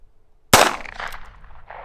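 A single sharp gunshot from a Heritage Barkeep revolver firing Hornady Critical Defense, loud and close after a moment of near silence, followed by a ringing, reverberant decay.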